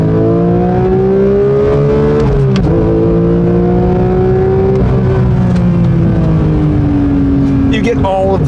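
A 2022 Porsche 911 GT3 Touring engine revs and holds a loud, steady howl, pitch rising and falling slightly, close up and dominating throughout.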